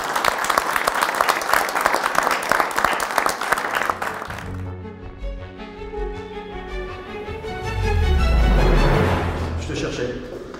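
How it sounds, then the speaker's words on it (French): An audience claps for a startup pitch before a jury at an event on artificial intelligence and work, a dense burst that stops after about four seconds, followed by music and voices. "On peut vous applaudir, je crois."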